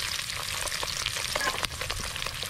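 Ginger, garlic, green chilli and onion hit hot oil in a pan for Chinese-style chilli fish, a dense close sizzle broken by quick scraping stirs, loud and steady throughout with no voices.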